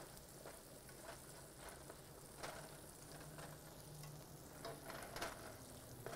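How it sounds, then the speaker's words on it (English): Mushrooms sauteing in a hot pan, a soft continuous sizzle with occasional scrapes and crackles from stirring, close but quiet, with no talking. "Give the mushrooms a quick saute."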